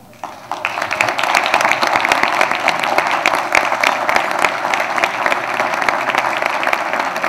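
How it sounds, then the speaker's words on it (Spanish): An audience at an award ceremony honoring a suicidology institute bursts into loud, sustained applause, with dense clapping starting abruptly and holding steady for several seconds. "Les pido un fuerte aplauso especial para el Instituto Hispanoamericano de"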